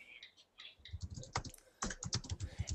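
Search words are typed on a computer keyboard, a quick close run of light key clicks with a brief pause and a second burst.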